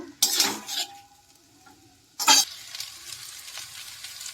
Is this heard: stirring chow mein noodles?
yes